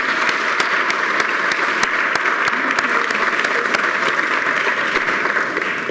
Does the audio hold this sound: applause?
yes